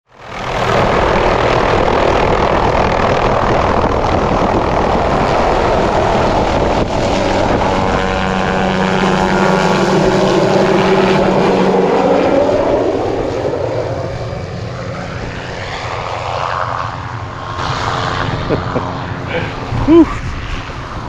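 Helicopter flight into Fiordland, a loud, steady rotor and engine roar that swells and shifts pitch, then thins out toward the end as voices speak.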